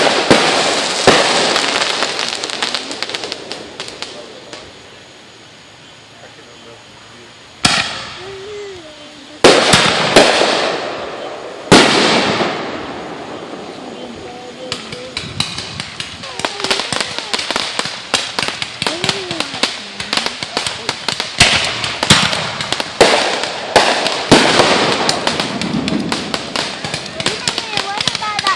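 Fourth of July fireworks explode in a loud outdoor display, with sharp bangs, crackling bursts and rapid popping in dense volleys separated by short lulls, as people talk over them.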